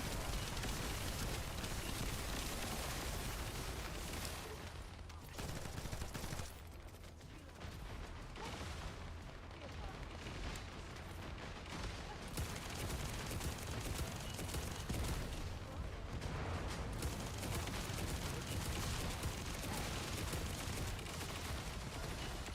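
Video-game gunfire rakes a defenseless resupplying aircraft, a dense, loud, continuous barrage of shots and mechanical clatter that briefly thins a few times before swelling back.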